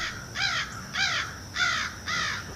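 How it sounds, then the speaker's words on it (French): A crow caws four times, close and fairly loud, in harsh calls spaced at an even, steady rhythm over a quiet background. "allez-vous-en le corbeau, allez-vous-en"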